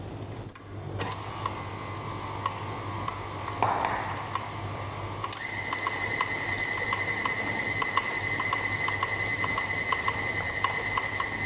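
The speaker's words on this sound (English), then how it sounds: "I use the mixer to mix well." An electric hand mixer beating Christmas pudding batter with raisins soaked in alcohol, giving a steady mechanical whir and hum that starts after a brief pause and runs continuously, close and fairly loud, with no talking.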